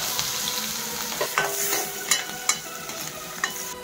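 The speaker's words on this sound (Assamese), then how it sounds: "এইখিনি তেলতে মই এতিয়া পিঁয়াজখিনি দি দিম।" Onions sizzle in leftover oil from frying fish, a dense steady crackle close by with a few sharp clinks and scrapes as they are stirred, and no talking.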